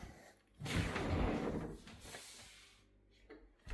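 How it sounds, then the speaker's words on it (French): A sliding glass door on an Italian-style walk-in shower in a Planet R1 2026 rolls open, giving a loud, rushing scrape lasting about two seconds and then trailing off into quiet. "Là, on a la douche italienne avec la porte coulissante."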